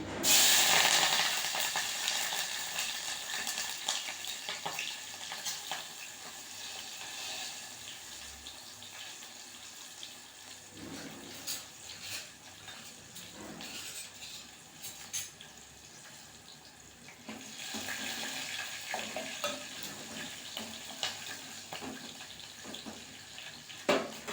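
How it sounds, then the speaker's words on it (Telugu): Mustard seeds and green chillies sizzle in hot oil as a ridge gourd curry is started. A steady, close frying hiss runs throughout with small crackling pops, easing midway and then swelling again. "చిలకర ఆవాలు వేస్తున్నా పచ్చిమిర్చి"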